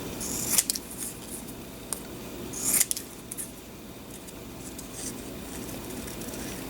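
Scissors cut a paper bow tie shape for a planner dashboard, giving a few crisp, close snips separated by quiet rustling pauses.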